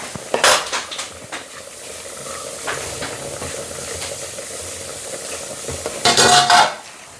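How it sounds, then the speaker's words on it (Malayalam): Taro frying in a pan as a spoon stirs it, with a steady close sizzle and scraping, clinking strokes against the metal, loudest in short bursts at the start and end. "ചേമ്പ് അങ്ങനെ വെന്തുകൊണ്ടിരിക്കുന്നു"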